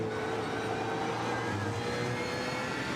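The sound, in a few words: BMW Z4 GT3 race car engine in a racing sim video game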